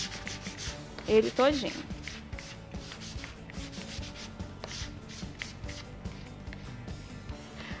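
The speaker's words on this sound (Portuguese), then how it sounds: "Aí você vai vir com uma lixinha e vai lixar" Sandpaper rubs by hand across an MDF basket in steady, close scratchy strokes, with a short voice speaking briefly near the start.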